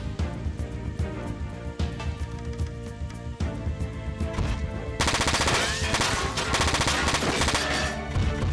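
Rapid machine gun fire rattles in the mecha video game Front Mission 4. Dense, continuous bursts sound over game audio and get louder and harsher partway through.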